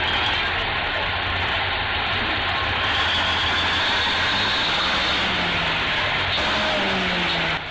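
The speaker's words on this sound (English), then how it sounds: "the 6x6 M818 military tractor truck is deeply submerged in water and mud" A 6x6 M818 military tractor truck sits deeply submerged in flood water and mud, its heavy diesel engine producing a loud, steady rumble with broad churning noise throughout and no voices.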